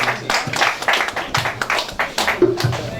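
An audience claps at the grand finale of a school robotics competition, uneven bursts of hand claps mixed with voices in the room.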